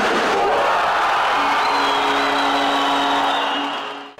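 Hockey fans in an arena cheer and whoop after an equalising goal, a loud burst of crowd noise that swells at once and holds, with a few raised voices riding over it before it fades out.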